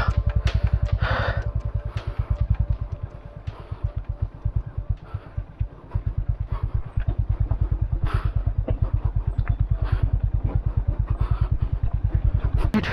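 Motorcycle pulling away on a rough, broken road in North Sikkim, its engine chugging in a steady close pulse throughout, with clattering from the bumpy surface and brief rises as it revs.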